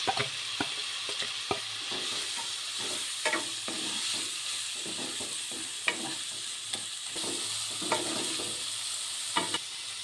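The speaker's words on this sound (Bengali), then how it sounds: "ওই পেঁয়াজটা এর সঙ্গে ভেজে নেব।" Onion frying in a pan for a Bengali prawn-in-yogurt curry: a constant close sizzle broken by regular spatula scrapes and taps against the pan, moderately quiet and with no talking.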